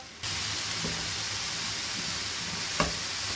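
Vegetables frying on high heat, a steady bright sizzle that starts abruptly and holds throughout, with a couple of small stirring knocks and no talking.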